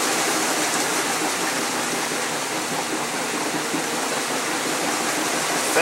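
A Magic Chef portable washing machine on its spin cycle with a heavy load of water still in it, giving a loud, steady, close rushing whoosh of churning water that holds constant throughout.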